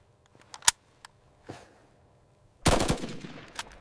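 AK-47 rifle fire cracks out in a few sharp, isolated shots, then gives way to a loud, dense burst of rapid gunfire that trails off into a fading echo.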